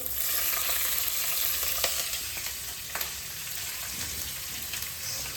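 Green chillies fry in hot oil for raw-mango rice, giving a steady, gentle sizzle with occasional sharper crackles and light stirring taps.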